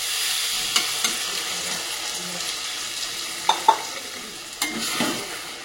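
Liquid poured into frying masala with two green chillies, giving steady sizzling and stirring under a few sharp clatters of a spoon against the pan.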